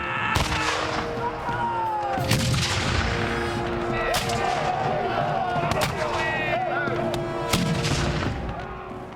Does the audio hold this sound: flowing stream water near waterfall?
no